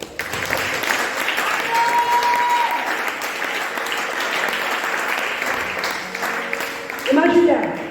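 Sustained applause from a church congregation during a French-language sermon, with dense clapping and crowd noise for several seconds that swells louder near the end, with faint voices mixed in.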